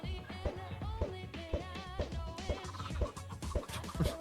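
Chickens in a video game, a rapid run of clucks and gobbling calls repeating steadily, close and fairly loud with no talk over them.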